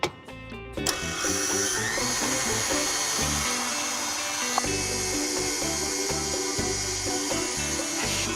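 An electric mixer with a whisk attachment beats egg whites and sugar, a steady loud motor whir with rhythmic pulsing from the beaters, starting after a brief clatter and running on alone.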